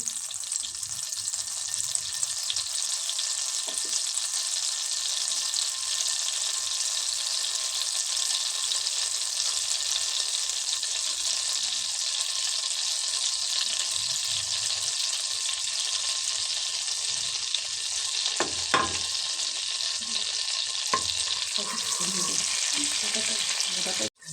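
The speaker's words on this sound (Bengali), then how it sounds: "বাটারটা মেল্ট হয়ে গেলে এতে আমি পনিরগুলো দিয়ে একটু নাড়াচাড়া করে নেব।" Paneer cubes fry in melted butter with a steady, loud sizzle throughout, broken by occasional scraping stirs near the end; no one talks.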